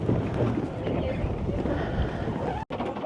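Strong wind blows across a crowded tour boat in Banff National Park, a loud continuous low rumble with gusty buffeting on the microphone and a brief dropout near the end.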